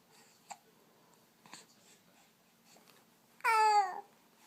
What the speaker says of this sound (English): Stupid hiccups, huh?